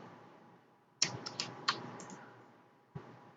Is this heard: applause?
no